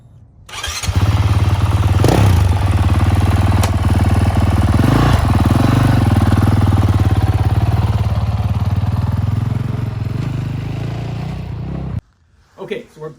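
A Honda CRF450L dual-sport motorcycle with a stage 1 build fires up and settles into a loud, steady idle close by, running for about eleven seconds before cutting off, with some speech over it.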